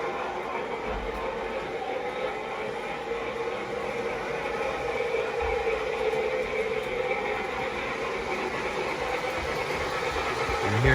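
MTH Premier DM&IR Yellowstone model steam locomotive laboring up a grade, a steady mechanical hum and rumble from a toy train running continuously at moderate level.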